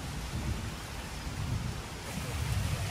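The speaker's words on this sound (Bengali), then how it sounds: "দিন পর বৃষ্টি পড়ছে আজকে।" Steady heavy rain pours down close by, a continuous dense hiss and patter on surfaces with low rumbling underneath, unbroken for the whole stretch.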